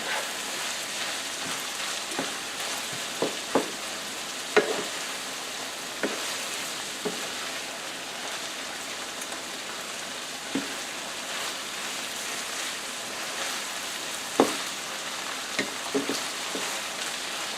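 Onions frying in a pot for shepherd's pie, a steady soft sizzle with scattered small pops and stirring clicks, close by and alone without talk.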